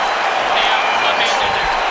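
Arena crowd at a UFC fight roars in a steady, loud wash of cheering and applause that lasts throughout, with no clear gaps.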